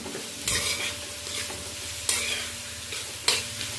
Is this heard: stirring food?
yes